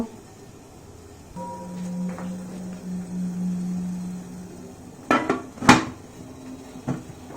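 Metal pots and a momo steamer clank on a gas stove as soybean momos are added, with a low steady hum under scattered clinks and a couple of sharp metallic knocks near the end.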